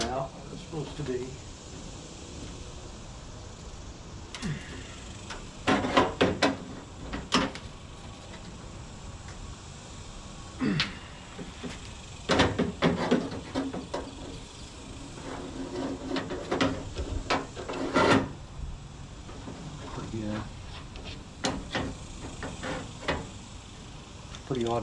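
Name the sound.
bending a metal door back into place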